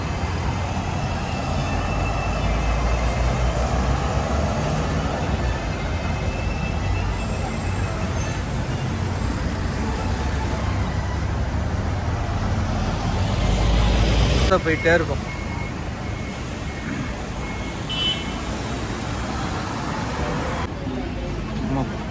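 Continuous road traffic rumbles past a Tekka bus stop in Singapore's Little India, with engines droning at a steady level and a louder vehicle passing midway, while someone talks nearby.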